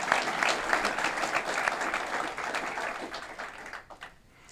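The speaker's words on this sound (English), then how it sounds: "Let's give them a round of applause for supporting this wonderful project." An audience at a development project announcement applauds, sustained clapping from a sizable crowd that stays full for several seconds, then thins and fades toward the end.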